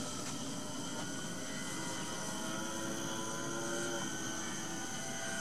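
A modified twin-propeller balsa trainer model airplane in flight gives off a continuous buzzing engine drone with shifting tonal lines, steady and fairly strong throughout, no voices.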